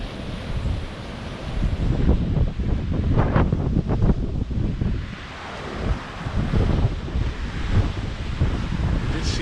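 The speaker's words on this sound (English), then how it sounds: "I always like to see the waves crashing against the rocks." On the Mallorca coast at Cala Rajada, waves crash and wash against rocks in a steady, surging roar with swells rising and falling, buffeted by heavy wind noise.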